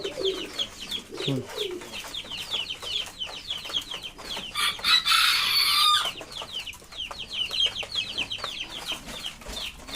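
Chickens cluck beside a loft of fancy pigeons in the morning: repeated short clucks and chirps run throughout, with a louder, denser burst of calls mid-way and occasional low cooing. No one speaks.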